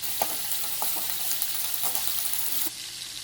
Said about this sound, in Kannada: ಇನ್ನೊಂದು ಸ್ವಲ್ಪ ಫ್ರೈ ಮಾಡಿಕೊಂಡ್ರೆ ಈ ಬೆಂಡೆಕಾಯಿ ಫ್ರೈ ಆಗೋದು ಮುಗಿಯುತ್ತೆ